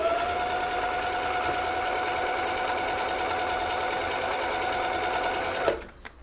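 An old Husqvarna sewing machine stitches steadily in one continuous run, a loud, even mechanical whir that stops abruptly near the end, followed by a couple of faint clicks.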